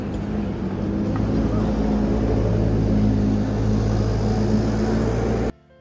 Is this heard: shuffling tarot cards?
no